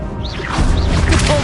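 The Defendo spell in Hogwarts Legacy bursts out as a loud magical whoosh with sweeping tones, followed by crashing, thudding impacts, all in quick succession within a second or so.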